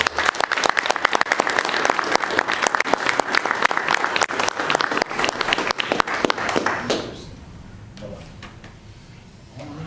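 A room full of people applauds at a city commission meeting, a dense, steady clapping that runs loud for about seven seconds before trailing off into a few scattered claps and quiet room tone.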